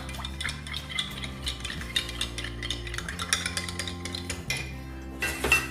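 A spoon clinks and scrapes steadily against the sides of a glass while a Nesvita frappe drink is stirred, a close, continuous tinkling over a low background hum.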